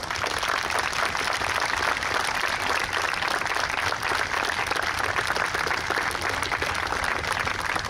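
Crowd applause at an outdoor New York State Police special operations team demonstration, steady dense clapping from a large audience sustained without a break.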